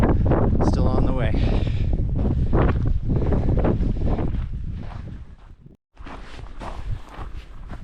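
Strong wind on a hillside near Pahrump, Nevada, roaring and buffeting loudly against the microphone with footsteps and a voice underneath, dropping out briefly before gusting back in.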